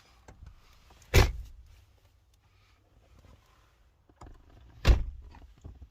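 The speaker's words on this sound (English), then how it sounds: "So we open the back, we get in. So we'll shut the doors." The doors of a camper van are pulled shut from inside, producing two distinct, solid thuds several seconds apart, with faint rustling and handling noise between them.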